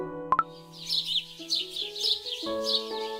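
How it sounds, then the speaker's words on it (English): Small birds chirp and tweet in quick bright bursts over a soft sustained musical backdrop, preceded by two sharp plucked notes, with no talking. "Hello, little birds. Come for your morning berries again?"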